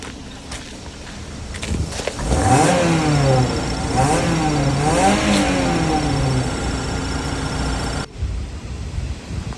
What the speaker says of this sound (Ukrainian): Звук двигуна такий дуже странний.